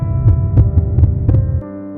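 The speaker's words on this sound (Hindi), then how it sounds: "उसे अक्षय के दिल की धड़कनें साफ साफ सुनाई दे रहे थे" Steady heartbeat thumps from an audio love story, about six soft low pulses in even rhythm over a constant hum, close and moderately loud, dropping away near the end.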